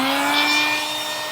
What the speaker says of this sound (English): Let's fire up the vac.